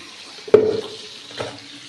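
Pieces of murrel fish fry in a pan with a soft, steady sizzle, broken by two sharp clattering stirs or drops, one strong and a quieter one shortly after.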